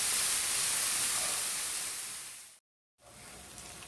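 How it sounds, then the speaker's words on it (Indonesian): Finely chopped onions sauté in a pan with a bright, steady close sizzle that fades, cuts out briefly and then resumes more quietly. "Tumis bawangnya sampai harum"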